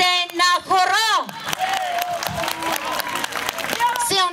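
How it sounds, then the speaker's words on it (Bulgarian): Crowd applause and cheering at a GERB campaign closing rally in Bozhurishte, broken by a loud, wavering voice with strong harmonics at the start and end and steady clapping running through the middle. "Силни аплодисменти"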